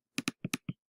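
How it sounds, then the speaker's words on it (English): Five crisp computer keyboard key clicks typing a math answer, close and distinct at an uneven rhythm, with no talk. "So let's type that in."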